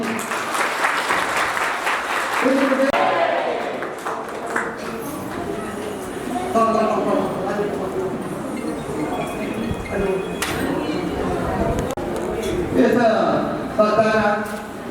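Audience applause at a guru satsang gathering in Butwal, Nepal, clapping steadily through the stretch, mixed with voices and background chatter, with a brief lull before the clapping swells again near the end.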